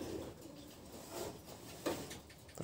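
A stray pigeon coos softly near a breeding loft, a few low throaty coos rising over a quiet room-tone background, no one speaking.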